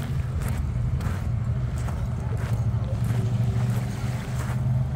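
A hovercraft with inflatable skirts runs at an exhibition, its engines and giant propellers giving a continuous loud low drone with steady wind-like rush, heard alone throughout.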